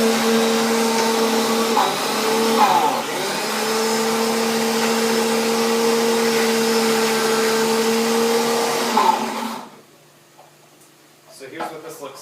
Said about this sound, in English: you do want to get all of the spices ground up together and blended